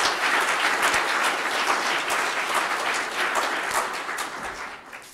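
A room of attendees at a city's state-of-the-city address breaks into sustained applause, dense and loud at first, then thinning slightly toward the end.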